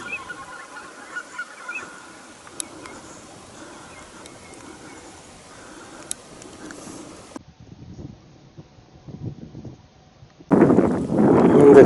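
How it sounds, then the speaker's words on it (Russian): Geese honk from a distance against wind noise in the Vashka river area near Udora; near the end a gust of wind roars into the microphone. "Гуси."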